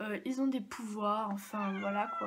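A domestic cat meows close by, its voiced calls mixed in with steady French speech from someone talking over it.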